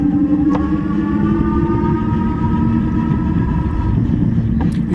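An AddMotoR MOTAN M-60 e-bike motor runs steadily with a low, even hum and faint higher whine, close and constant throughout, with a couple of brief clicks near the start and end.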